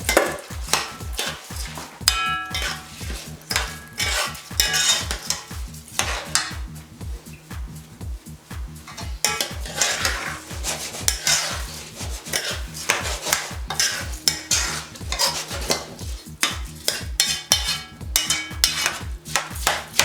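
Rice is stirred and scraped around a pan with a utensil, a steady rhythmic scraping and rasping against the metal, continuing alone and fairly close for the whole stretch.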